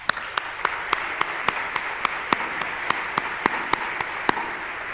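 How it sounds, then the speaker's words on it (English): An academic audience at a scientific society presidential session applauds an award winner, a soft diffuse clapping bed punctuated by one person's loud, sharp, evenly spaced claps close by, about three per second. "but please do give him a round of applause"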